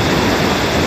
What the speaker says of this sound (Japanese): なんか滝みたいになってる